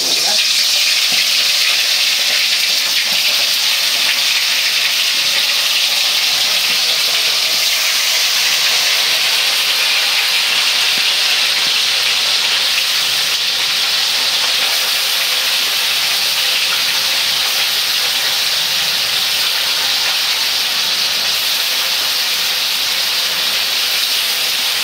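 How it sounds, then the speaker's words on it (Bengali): Meat fries in hot soybean oil in a kadai, a loud, continuous close-up sizzle and hiss that holds evenly for the whole stretch with no voices. "তেলটা গরম হয়ে গেছে, এখন মাংসগুলো দিয়ে ভেজে নিব"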